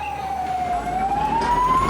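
Ambulance siren arriving at a hospital in Sri Lanka, a single loud wailing tone sweeping slowly down then back up over a low vehicle rumble.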